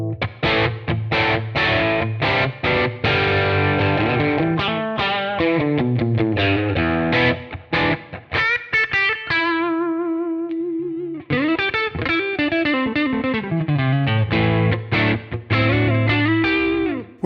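Electric guitar played through the Kemper Liquid Profiling preset Push 1, a loud, continuous run of distorted, driven chords and single-note lines with a short sustained ringing passage in the middle, alone without voices.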